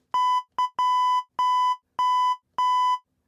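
Six electronic beeps of a single steady pitch spell out the Happy Birthday melody, their lengths varying with the tune's rhythm. The tones are clean, clear and close, separated by short gaps of silence, and no one speaks over them.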